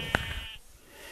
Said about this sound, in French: Bonjour, mouton.